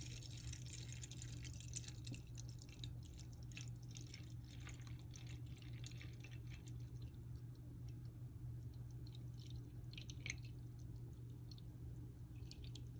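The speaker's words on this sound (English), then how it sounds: "And we can add the rest of the milk in now." Milk for homemade non-fat, lactose-free Greek yogurt is poured slowly, giving a faint, steady liquid trickle with soft drips and no talking.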